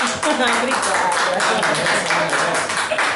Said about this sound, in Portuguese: Vamos bater uma salva de palmas